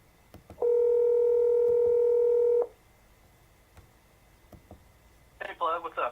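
Telephone dialing tone on a phone line, a steady two-tone beep lasting about two seconds, alone and fairly loud, followed by a short burst of distorted sound near the end.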